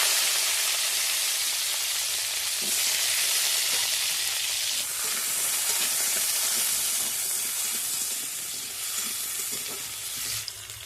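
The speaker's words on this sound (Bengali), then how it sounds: "আলু ভাজার জন্য প্রথমে সরষের তেল দিয়ে দিলাম।" Potatoes fry in hot mustard oil in a wok with a loud, steady sizzle and hiss throughout, and occasional stirring scrapes break through the constant frying noise.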